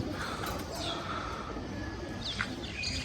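Pet pigeons just released outdoors, with scattered chirps and calls over a continuous broad background hiss.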